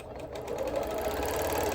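A sewing machine runs steadily while quilting feather motifs, a close, fast, even mechanical whirr with rapid needle ticking throughout the short stretch, with no voices.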